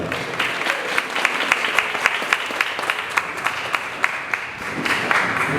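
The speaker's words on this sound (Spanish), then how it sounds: "Vamos a dar un muy fuerte aplauso a cada uno de los dirigentes y miembros del partido Unidad Nacional" Steady applause from a crowd at a Unidad Nacional political party conference in La Altagracia, with dense clapping throughout and several sharper individual claps standing out near the front.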